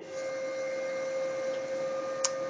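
A steady mechanical hum with a high whine drones continuously from a nearby Brother HL-3170CDW laser printer warming up, broken by one brief faint click near the end.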